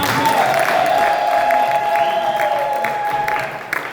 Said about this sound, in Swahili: makofi na vigelegele